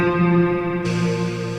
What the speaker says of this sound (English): Then we've got a reverse piano.